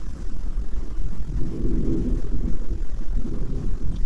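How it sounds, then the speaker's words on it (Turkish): A steady broadband roar from an airplane passing overhead swells slightly in the middle, heard from a caravan at a lakeside campsite after rain. "Gökyüzünde de uçak geçiyor."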